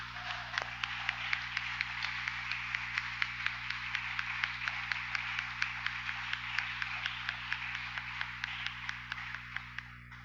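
A church congregation at a missions service claps along in a steady, even rhythm, the sharp hand claps repeating continuously and filling the room at moderate volume.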